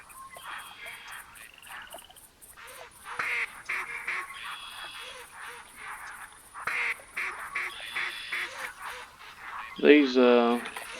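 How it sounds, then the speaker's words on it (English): A flock of ducks quacking over a bayou during a duck hunt, with repeated overlapping calls that come in waves at middle distance and one louder close burst near the end, while someone speaks quietly over them. "these ducks really just keep coming in"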